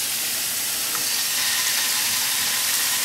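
Fish searing in a hot pan gives a dense, even hiss of sizzling oil, loud and close, steady for the whole stretch with no voices.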